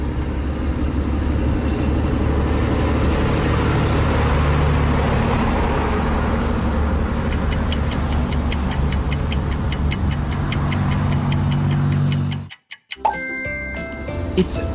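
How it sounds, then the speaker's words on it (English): Truck driving with a broad, continuous rumbling roar and road noise, loud and steady for about twelve seconds, with a fast ticking layered over the end before a short pause and a chime. "It's a truck."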